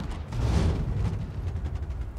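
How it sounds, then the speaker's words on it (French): An explosion in Star Citizen, a deep rumbling boom that swells early, then trails off into crackling mechanical rattles and fading debris noise, heard alone without talk. "j'ai entendu un bruit, une explosion"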